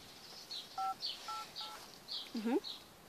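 Phone number keys are dialed in a few short, separate tones, mixed with bird-like chirps and a brief squeaky sound near the end. People talk faintly in the background.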